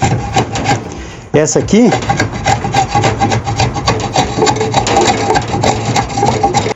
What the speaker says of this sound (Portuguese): é uma plana de madeira